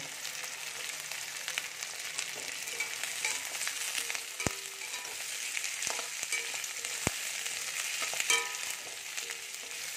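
Capsicum lightly frying in a pan for chilli paneer, a steady close sizzle with occasional sharp clicks of a utensil against the pan, no voices.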